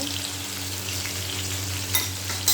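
Potato pieces fry in hot oil seasoned with salt and turmeric, giving a close, continuous sizzle with a couple of sharp scrapes of stirring near the end.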